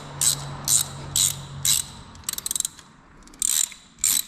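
A ratchet works a head stud out of a Mitsubishi Evo engine block whose threads have pulled out, giving about seven short bursts of close, loud clicking separated by pauses.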